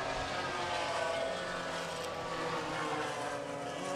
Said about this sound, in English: These guys have been waiting to let it back open, and down they go down the straightaway.